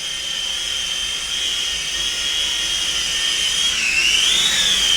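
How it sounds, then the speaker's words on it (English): A Syma S52H remote control military transport helicopter flying on brushed motors, giving a steady, loud high-pitched whine that holds constant and then bends in pitch near the end, close by with no voices. "You can hear the brush motors going."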